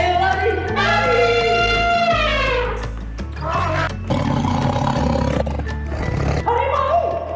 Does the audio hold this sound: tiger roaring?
yes